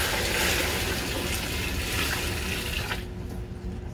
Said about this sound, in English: really, I should pour it slower because right now it's just